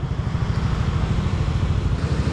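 A motorcycle engine rumbles steadily at a low idle, close by and fairly quiet, with no voices.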